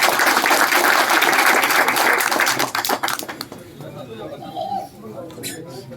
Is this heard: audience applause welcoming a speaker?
yes